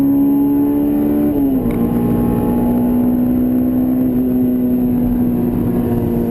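An autocross-prepped Honda S2000 pulls hard down a drag strip, its engine holding a loud, steady high-revving drone with a brief dip at a gear change before climbing on, close and continuous with no voices.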